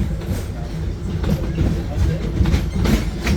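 Wildlife Express train at Disney's Animal Kingdom pulling out, steady rumbling rail and carriage noise with faint clatter, continuous and close, no speech.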